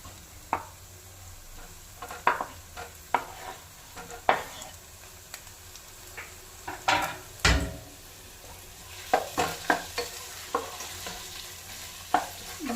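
Chopped tomatoes sautéing in a hot pan, a low sizzle under repeated scraping and clacking strokes of a spatula against the pan, irregular and close, with one louder knock midway.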